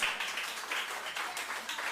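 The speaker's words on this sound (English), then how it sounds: "Now the round of applause." A small group at a township zoning commission meeting gives a round of applause, a brief stretch of modest, fairly distant clapping with a steady rhythm.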